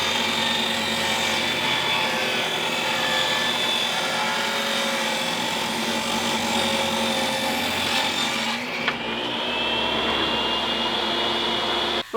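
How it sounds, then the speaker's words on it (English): A table saw running at an off-grid cabin build makes a loud, steady, high-pitched whine as it cuts wonky wood offcuts into stock. The whine drops briefly near the end, and no one speaks. "run them through a table saw to give myself enough stock to do the bulkhead"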